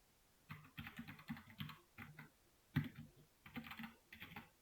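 Close, crisp typing on a computer keyboard, coming in quick bursts of clicking keys with short pauses between them, with no voices.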